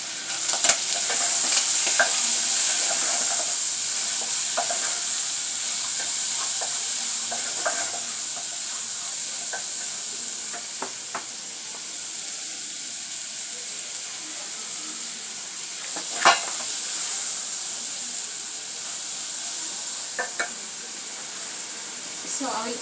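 Ginger is stirred in a hot frying pan, making a bright, constant sizzle and hiss throughout, with scattered scrapes and clicks of the utensil against the pan, loud and close.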